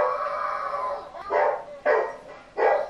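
Dog barking in a tense horror film scene, three loud, separate barks about half a second apart, following a stretch of tonal film sound.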